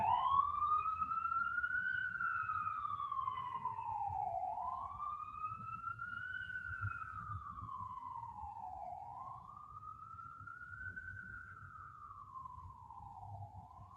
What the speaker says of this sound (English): listen to the sirens go by